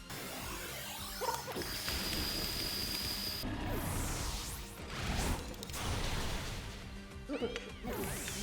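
The Make It Rain move from a Pokémon video game plays out as a string of crashing, clattering impacts and swishing sweeps over a busy, rain-like wash of sound, loud and layered for several seconds without speech.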